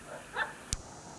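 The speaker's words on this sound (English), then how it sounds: "the dog's barking in the background there" A dog barks beside a country road, one short faint yelp then a sharper single bark, distant and brief against a quiet background.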